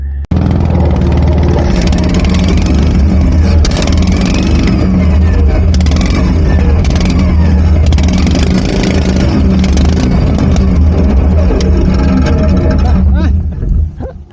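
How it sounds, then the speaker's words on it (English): A John Deere racing lawn tractor engine revs loud and close on a race track, a continuous buzzing roar rising and falling for several seconds before cutting off near the end. "We're going to get out there with the John Deere first"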